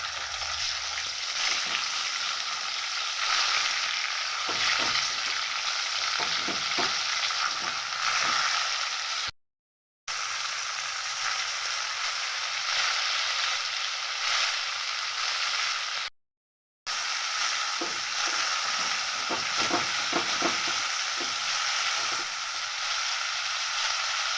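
Ginger-garlic paste sizzles in a pan with chicken for a haleem, frying loudly and steadily with occasional stirring scrapes, the crackle continuing through two brief breaks.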